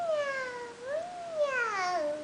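A young child imitating a cat, voicing two drawn-out, wavering meows close up, the second higher and more strained.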